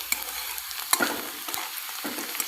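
Chopped onions sautéing in a pan for kande pohe, a close, light sizzle broken by a few sharp stirring scrapes and clinks of a spoon against the pan, with no one speaking.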